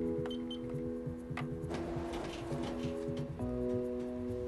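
An office copier runs with a steady mechanical hum and whir, shifting in pitch partway through, with a burst of scanning noise in the middle and a few faint clicks.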